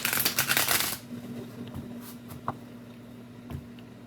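Playing cards being shuffled up close, a loud riffling burst at the start followed by softer scattered card snaps and taps over a faint steady hum.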